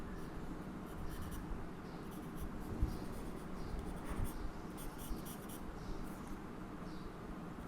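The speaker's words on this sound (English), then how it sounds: "Over here I am going to draw hair cutting the eyebrows." Pencil strokes sketching Goku's spiky hair on paper, a steady close scratching of short repeated strokes with no talk over it.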